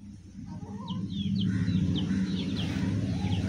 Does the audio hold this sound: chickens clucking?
yes